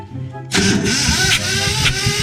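Car engine cranking over during a compression test, a loud rhythmic churning that starts abruptly after a quiet moment and continues steadily with pulsing compression strokes.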